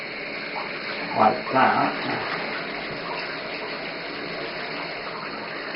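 Hot water runs and splashes into a foot bath, a continuous gushing pour with a couple of louder surges early on, while a person speaks briefly over it.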